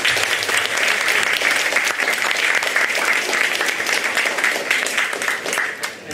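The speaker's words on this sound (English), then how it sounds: "let's give a big round of applause to Ajahn Woody" Sustained, loud applause from a university audience at Stamford honoring Ajahn Woody after an inspirational talk, dense steady clapping close by with a faint crowd murmur, tapering slightly at the end.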